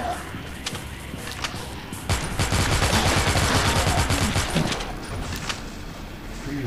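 Rapid gunfire from a weapon in an offline Android zombie shooter, a sustained loud burst of shots in the middle of the clip over a background of game noise.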